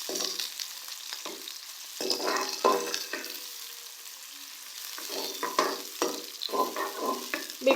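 Two medium onions fry in hot oil for a fish fry masala, a steady sizzle broken by repeated bursts of stirring and scraping in the pan, close and fairly loud throughout.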